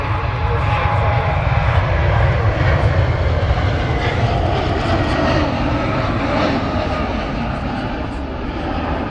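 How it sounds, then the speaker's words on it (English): An airplane taxis out for departure at Manchester Airport, its engines giving a loud, steady roar that holds for the whole stretch with a slight fade near the end and no speech over it. "Also taxiing out for departure."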